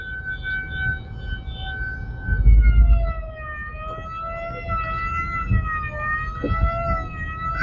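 Ambulance siren from SAMU vehicles at a beachfront horseback parade in Fortaleza, rising and falling in a steady wail over a busy outdoor crowd and low rumbling traffic.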